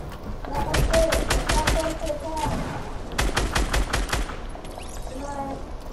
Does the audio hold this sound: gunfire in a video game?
yes